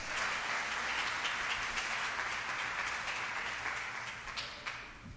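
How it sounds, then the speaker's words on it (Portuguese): A church congregation applauds during a worship service, a fairly faint, steady wash of clapping that holds evenly and then tapers off toward the end. "Aplaudo Jesus, glória a Deus."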